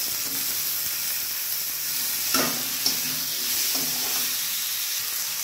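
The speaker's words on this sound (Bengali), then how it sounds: "সুন্দর করে মশলাটা কষিয়ে দিচ্ছি" Bengali-style spice masala of garlic, ginger paste and tomato for a fish curry sizzles steadily in oil, with a few soft scrapes and stirs of a spoon against the pan, close and continuous with no talking.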